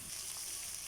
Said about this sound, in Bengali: ভাজা পেঁয়াজ রসুনের ভিতরে দিয়ে দিছি, এটা সুন্দর করে নাড়াচাড়া করে মিশিয়ে নিব